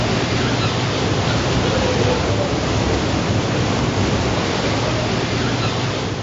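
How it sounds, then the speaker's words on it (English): A simulated flash flood in a canyon exhibit: a steady, loud, broad rushing roar of water pours continuously without pause, close and enveloping, with no voices. "a huge rush of water comes rushing down through the canyon"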